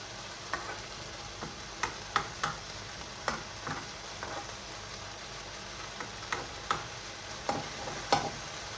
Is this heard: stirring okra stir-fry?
yes